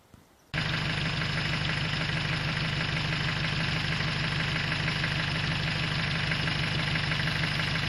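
A Land Rover engine fires up abruptly after a brief quiet moment, then settles into a loud, steady, close idle with an even low rumble, ready to tow a stuck vehicle out of mud.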